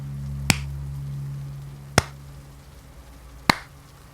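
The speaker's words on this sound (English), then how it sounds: "You begin to hear clapping," Three slow hand claps ring out alone at a steady interval of about one and a half seconds, sharp and fairly close, with a low hum beneath them during a tabletop role-playing session.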